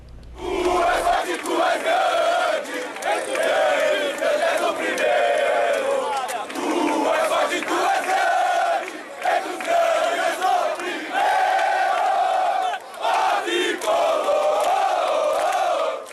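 São Paulo football fans chant and roar in the stands at Morumbi stadium, a loud, continuous mass of voices that rises and falls in waves with a few brief dips.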